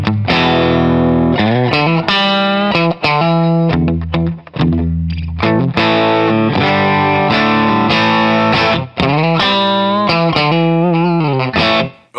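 An Amazon Les Paul copy electric guitar is played loud with heavy distortion, strummed chords and riffs ringing out continuously, with no talking.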